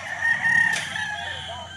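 A rooster crows once at a game fowl breeding farm, a loud drawn-out call near the start, with faint farmyard background continuing after it.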